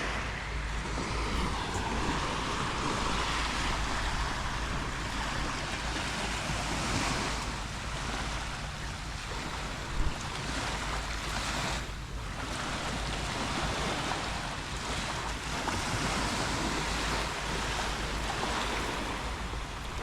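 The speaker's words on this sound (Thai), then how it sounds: "แล้วก็ได้ยินเสียงคลื่น" Steady ocean surf washes in at Sam Roi Yot beach, Thailand, with a constant roar, gusts of wind buffeting the microphone, no voices.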